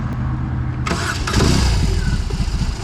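A BMW R18 motorcycle engine cranks and catches, settling into a loud, rumbling idle with a rough, throbbing low-end pulse and shake close by.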